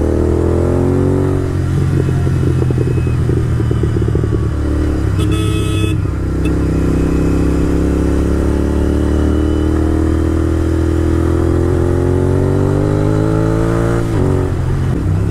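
A Royal Enfield Bullet motorcycle, started after sitting idle for six months, runs steadily with a loud, close, throbbing single-cylinder engine that builds and climbs in revs over fifteen seconds, with a brief higher clatter midway.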